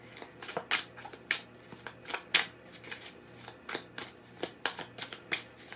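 A deck of tarot cards is shuffled by hand nearby, a quick irregular run of crisp riffling flicks and papery snaps, fairly quiet with no voices over it.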